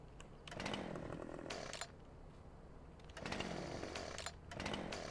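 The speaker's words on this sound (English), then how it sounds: "Oh, I can access both chainsaws now." Chainsaw cutting wood in the video game Farming Simulator 2015, its engine revving loudly in repeated bursts and easing back to idle between cuts, with no speech.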